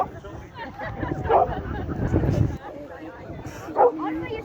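Dogs at an outdoor dog show on Hoy yip, whimper and give short barks amid a background of people chatting, the dog sounds coming in a few scattered bursts under the crowd noise.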